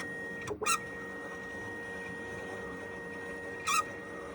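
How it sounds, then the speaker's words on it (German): A home printer running after a cleaning, making unusual noises: a steady mechanical hum with a constant whine throughout, broken by two short, brighter whirring or clicking bursts near the start and near the end, no talking. "der Reinigung hat sich mein Drucker plötzlich ganz anders angehört."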